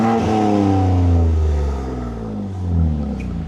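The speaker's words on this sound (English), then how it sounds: "Okay, rev it again." A BMW M3 with a newly installed exhaust revs hard, its deep, loud engine note climbing, briefly holding and falling away in a single close, throaty rev with no talk over it.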